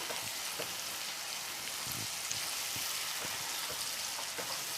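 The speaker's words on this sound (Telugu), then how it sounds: "ఇది కూడా పచ్చివాసన పోయేంత వరకు ఇందులోనే వేయించుకోవాలి" Half a spoon of ginger garlic paste fries in a pan with a steady, close crackling sizzle dotted with small pops.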